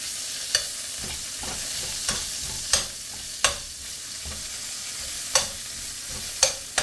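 Chopped sausage patties sizzle steadily in a hot pan, with a spoon or spatula scraping and stirring at irregular intervals, close and clear, with no talk.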